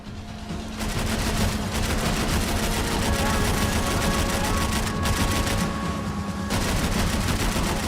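Heavy gunfire from a third-person shooter video game rattles almost nonstop, with dense automatic bursts layered over a constant roar of shots, loud and close throughout.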